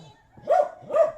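A tied-up dog gives two quick, close barks in succession, with no talking.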